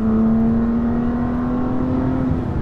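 A BMW M2 CS on the move with its exhaust giving off a steady, loud, low drone at a nearly constant pitch, continuous throughout with no talking.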